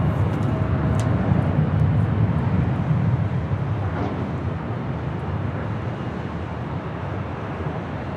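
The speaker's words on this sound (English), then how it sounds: "Here in Tahiti Nui, Dreamliner heading up here for its north side departure at 24 left." An Air Tahiti Nui Boeing 787-9 Dreamliner taxiing at Los Angeles International gives off a steady low engine rumble at moderate strength, easing slightly toward the end.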